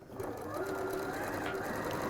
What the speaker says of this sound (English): Don't need a bigger machine this time because we only need a straight stitch for this.